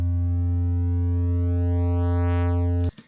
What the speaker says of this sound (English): the more it starts to sound and look visually like a square wave